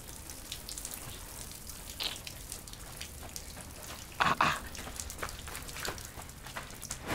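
Rain falls steadily outdoors in a residential neighbourhood, a soft, even patter and hiss across the whole stretch, with a louder splash or gust near the middle and no talking.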